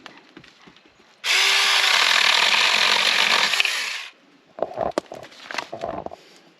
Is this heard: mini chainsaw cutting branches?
yes